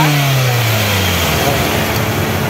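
A car engine at an auto supply shop in Taguig revs up and settles in a loud, close, continuous drone whose pitch slides downward as the revs drop.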